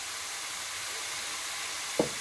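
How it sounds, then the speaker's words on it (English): Sliced carrots frying in a pan give a soft, even sizzle throughout, ending in one brief sharp clink near the close, with no talking. "My carrot is still frying"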